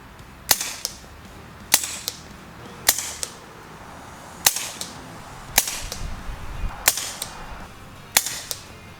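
Pinty Night Fall MK2 air rifle firing JTS pellets outdoors, seven sharp cracking shots spaced roughly a second or more apart, each a sudden loud snap with a brief tail, with no talking.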